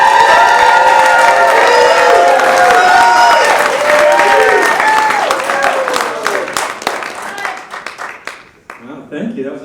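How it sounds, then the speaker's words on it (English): Audience applause and cheering for a comedian on stage at a JCC comedy set, loud and dense broadband clapping with shouts that fades and thins toward the end as a voice begins to speak. "That was a nice applause."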